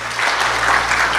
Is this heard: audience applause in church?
yes